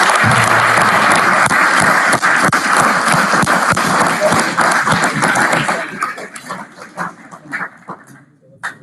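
An audience at an awards ceremony gives a round of applause for the winners, loud and dense at first, then thinning into scattered claps and voices as it dies down.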